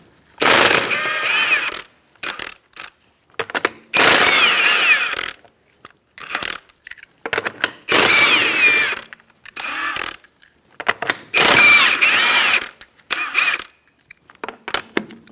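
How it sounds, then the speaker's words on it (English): A 21mm socket ratchet takes lug nuts off a 2004-2009 Mazda 3 wheel. About six loud bursts of rapid ratcheting clicks are separated by short silences. "Using a 21mm socket, we're going to take off our lug nuts."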